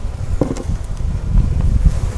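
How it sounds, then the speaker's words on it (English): Bees spill out of a package as the syrup can is pulled free during hive installation. A steady low buzzing hum of many insects fills the clip, with faint handling noises and no speech. "Some bees will fly out."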